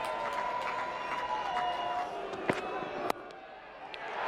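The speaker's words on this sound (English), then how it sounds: "Every shot now greeted with a huge roar from the Pakistan contingent in the crowd." A cricket crowd at Lord's during a Pakistan versus Australia Test, with the Pakistan contingent of fans keeping up a broad, steady roar and cheering through the whole stretch, sharp claps or cracks poking out near the middle and again later.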